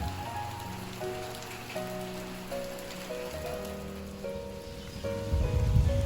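Steady rain falls on a garden, a constant patter of drops on surfaces with faint tonal sounds underneath and a heavier burst toward the end.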